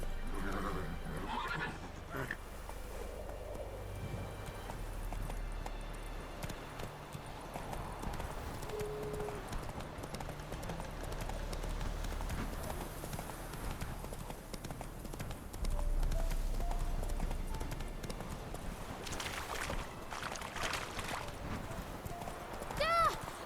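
Horse galloping in The Witcher 3, with continuous hoofbeats and occasional whinnies at a steady pace, and faint game voices in the background.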